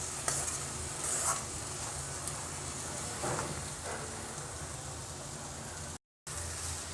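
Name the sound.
egg being mixed and scrambled in a pan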